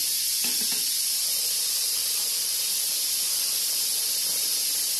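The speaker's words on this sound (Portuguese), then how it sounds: "Aí vou fritar, aqui tá bem quente." Bolinho de chuva batter sizzles in very hot oil with a steady, bright hiss, and a few soft clicks or drops sound near the start.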